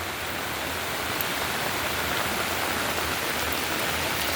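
Steady, dense rainfall in St Thomas during the Christmas season, a continuous even hiss of drops on surfaces with no pauses and no voices.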